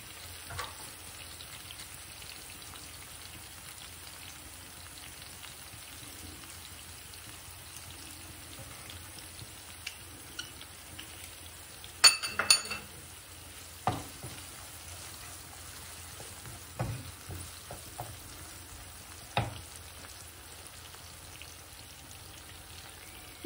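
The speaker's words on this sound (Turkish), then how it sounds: "Şimdi bunun üzerine iki diş sarımsağımız var. Onu da ilave ediyorum." Two garlic cloves frying in a pan while making curry-sauce pasta give a quiet, steady sizzle, with a few sharp pops and clinks scattered through the middle and later part.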